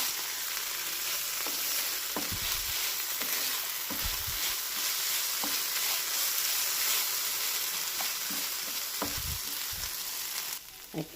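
Masala with moong dal sizzles in a pan over low heat while being stirred, a continuous close frying hiss broken by scattered scraping strokes of a spoon.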